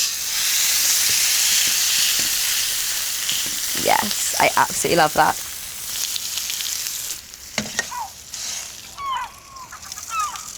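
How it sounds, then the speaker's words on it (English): Steak sears in a preheated cast iron pan, a loud continuous sizzle and hiss throughout, with bursts of crackle and spatter in the middle; a voice speaks briefly over it near the end. "I'm going to get my preheated cast iron pan, and then listen to this sear."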